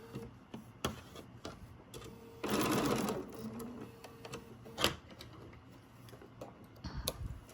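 A sewing machine stitches a seam on a quilt block, its motor buzzing in a steady burst for about a second amid scattered clicks and handling noises, close and moderately loud with no talking.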